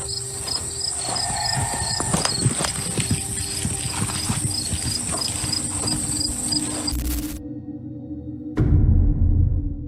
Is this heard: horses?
yes